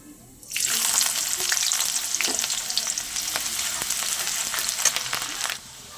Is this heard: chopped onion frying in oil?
yes